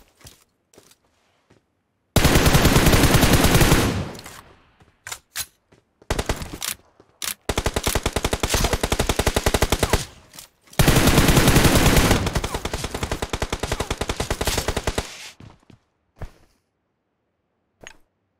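Rapid automatic gunfire rattles in long, loud bursts during a PUBG Mobile match, with a few scattered single shots before, between and after the sustained volleys.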